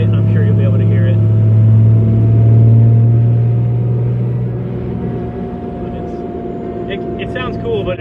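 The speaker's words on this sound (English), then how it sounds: "the exhaust is too loud" Deep, steady diesel rumble from a second-generation 24-valve Cummins dually with a five-speed and a loud exhaust, pulling hard in fourth gear at about 45–50 mph; the drone swells, then eases slightly, heard from inside the cab.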